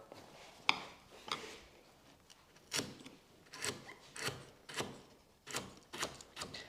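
A sharp chisel pares wood on a chair part, giving a series of short scraping strokes at an uneven rhythm, close and fairly quiet.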